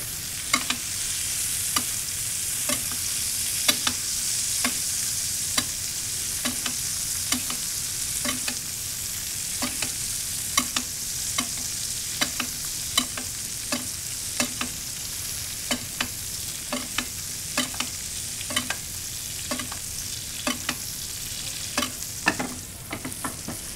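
A steak searing in a pan with butter and garlic crackles with a steady, close sizzle, punctuated by regular, evenly spaced clicks and taps throughout.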